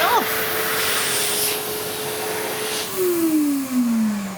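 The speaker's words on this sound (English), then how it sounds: "the hand dryer will turn on without us even having to press a button, like this." An automatic hand dryer blows air in a loud, steady rushing roar with a sustained tone running through it, and the pitch drops and slides down near the end.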